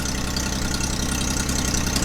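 A Smart car engine idles close by with a steady, rhythmic low rumble and faint ticking, running alone without voices.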